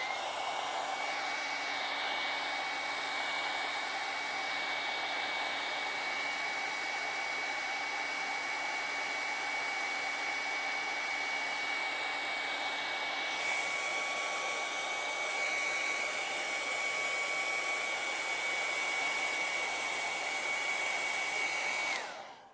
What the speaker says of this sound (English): let's just dry this so we don't worry about smudging it